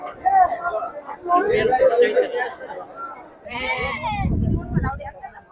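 Goats bleat in short, wavering calls amid people chattering nearby at a weekly sheep and goat market, a busy crowd murmur filling the gaps.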